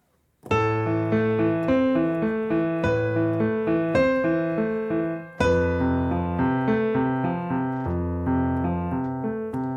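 A piano melody plays in steady notes over sustained chords, finishing on an unresolved note that leaves the phrase hanging without settling.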